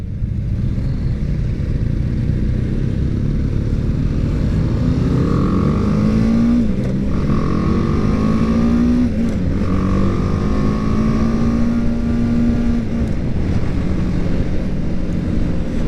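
A 2019 BMW G310GS 300cc motorcycle pulls away from a stoplight, its engine note rising steadily through the gears under constant loud wind rush, with no talking.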